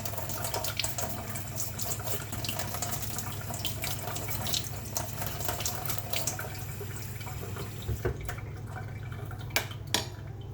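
Steady tap water runs into a sink while oxidized jewelry pieces are rinsed of liver of sulfur, a continuous close splashing flow with occasional clinks and drips near the end, no voices.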